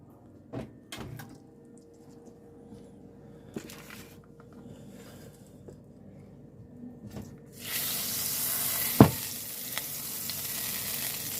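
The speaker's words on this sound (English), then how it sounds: "I love the sound of a nice cast iron pan." Faint crackling and scraping in a cast iron pan with a few clanks, then a louder steady sizzle rises toward the end, with no talking.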